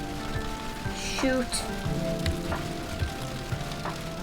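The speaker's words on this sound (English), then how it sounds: "Oh, hail." Hail pelting down during a storm chase, a steady dense patter of hits on surfaces close by, with brief speech over it.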